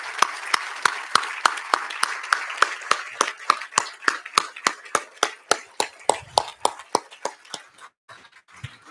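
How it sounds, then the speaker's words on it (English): Audience at a milestone event applauding to recognize research leaders: rhythmic, evenly spaced claps from a small group, fairly near, thinning out toward the end. "other research leaders in the audience to be recognized with some applause"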